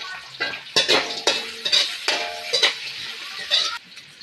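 Chopped large onion tumbled into a pan of fried lentils and stirred, giving broadband sizzling with repeated scraping strokes of a spoon against the pan, fairly close and steady over several seconds, no talking.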